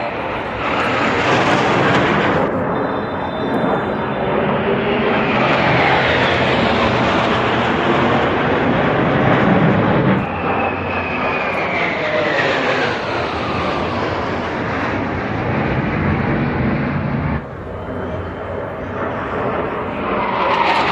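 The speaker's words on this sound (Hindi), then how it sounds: "तो चलो अब जहाज़ों की आवाज़ सुनो।" Fighter jets pass overhead with a loud, continuous broadband roar and a sweeping whine that shifts in pitch as each aircraft goes by, lasting the full stretch with no talk.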